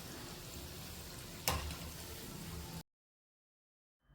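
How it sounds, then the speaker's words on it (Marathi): Mysore bonda deep-frying in oil on a medium flame, a steady close bubbling sizzle with one brief louder splash, cutting off abruptly into silence. "लालसर कलर येईपर्यंत छान मीडियम फ्लेमवरती तळून घ्यायचं."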